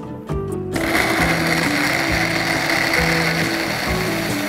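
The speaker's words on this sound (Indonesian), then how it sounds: "Nah ini sekaligus buat cairan untuk di blender ya sahabat ya." A blender grinds spice paste with keluak liquid for pindang tetel, a steady loud whirring motor hum that starts abruptly and runs on evenly without talk.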